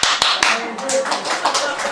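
A church congregation of pastors' wives applauding during a sermon, a few sharp opening claps swelling into steady, dense clapping that fills the room, with a voice speaking over it.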